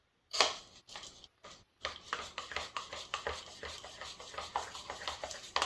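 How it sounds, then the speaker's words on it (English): Biscuit pizza dough with cold water and sharp cheddar is stirred in a bowl, a steady run of soft scraping, rubbing strokes heard close and alone. "We're going to stir this up."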